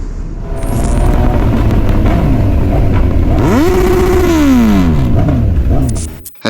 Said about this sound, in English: And that revving attracted unwanted attention from cops